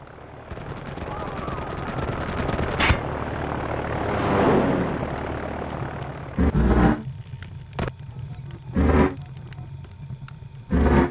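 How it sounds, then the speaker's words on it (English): A low-flying aircraft approaches in the spy game I Expect You To Die, its engine drone swelling overhead with rattling mechanical bursts, followed by several sharp heavy thumps near the end. "We've received reports of a low-flying aircraft in your area."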